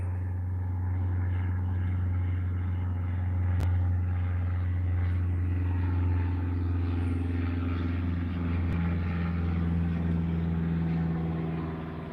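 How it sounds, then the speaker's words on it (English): A Cessna 152 light airplane climbs slowly near Willow Run Airport, its engine a steady, droning hum that stays fairly loud and even for the whole stretch, with no voices. "Look at this little 152 struggling in the air."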